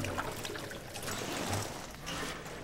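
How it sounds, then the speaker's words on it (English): Fuel being poured into a container in Amnesia The Bunker, a soft, quiet trickle of liquid that runs steadily for a few seconds against a low background hum. "Alright, so I need fuel. And now I'm gonna pour it in here."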